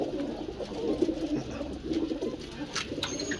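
Pigeons on a rooftop coo in soft, throaty bursts, several birds overlapping at close range, with faint background clatter and noise.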